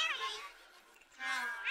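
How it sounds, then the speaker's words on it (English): Two drawn-out cat meows come from the animated film Scooby-Doo on Zombie Island, one at each end of the moment with a quiet gap between them. They are fairly faint, with light speech-like sound in the background. "Scooby catches the cat."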